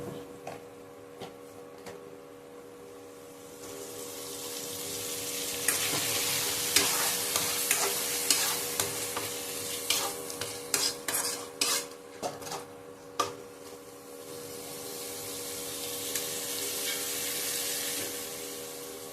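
Spice paste with turmeric being stir-fried in a pan for a Bengali chana and khesari dal dhoka curry, a steady sizzle with repeated scraping spoon strokes against the metal, louder in the middle section.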